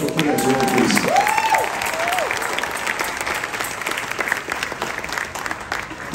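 Sustained applause from a large crowd in a cruise ship's main dining room, loud at first with some cheering and a voice, gradually tapering off while clapping continues.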